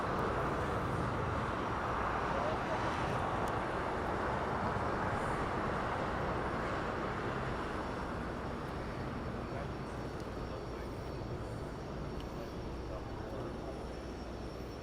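Airliner taking off at LAX airport, a broad roaring jet rush that holds strong and slowly fades as the plane climbs away, heard at a distance outdoors.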